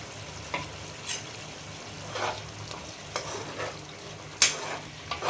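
Garam masala sizzles in hot ghee for a Bengali chhanar dalna, a paneer and potato curry. A quiet, steady hiss runs throughout, broken by a few short stirring clinks and scrapes.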